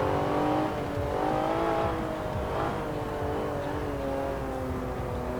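Forza video game car engine revving steadily during a drift, with a continuous harmonic whine that rises and falls in pitch, loud and close throughout.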